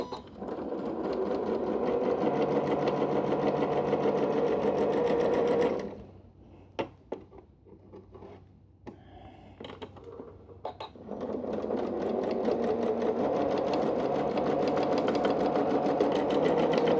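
Sewing machine stitching with a free motion active foot, a fast, steady mechanical whirr that stops for several seconds with a few clicks and knocks, then resumes at the same pace.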